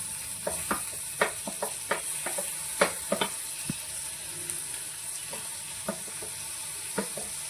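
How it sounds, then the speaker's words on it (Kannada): Tomatoes frying in a pan, with a steady bright sizzle and scattered stirring scrapes and clicks of a utensil; close and fairly quiet, with no talking. "ಟೊಮೊಟೊ ಸ್ವಲ್ಪ ಫ್ರೈ ಆಗಲಿ"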